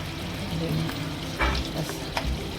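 Gravy sizzles and fries in a pan in a home kitchen, a steady hiss with a few stirring scrapes and bumps, close and moderately loud, with no talking.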